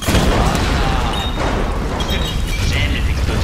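A loud, rumbling video game explosion blast fills the clip, followed by crackling debris and a sustained roar.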